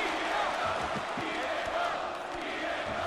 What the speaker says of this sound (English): The crowd showing their support for Diego Sanchez